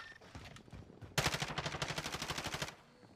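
Rapid automatic gunfire in Call of Duty: Warzone bursts in loudly after quieter game noise, a steady stream of close shots lasting about a second and a half before cutting off.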